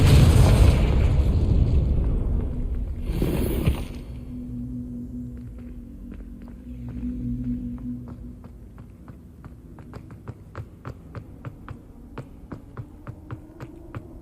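A Confringo fire spell blasts in Hogwarts Legacy with a loud, booming explosion at the start, a second burst around three seconds in, then a fading rumble and a run of light, sharp ticking footsteps.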